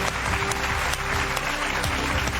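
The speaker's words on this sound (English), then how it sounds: "Now let's have a round of applause for our candidates." A studio audience at a televised political debate in Chicago gives a sustained round of applause, a dense, even clapping that stays steady for a couple of seconds.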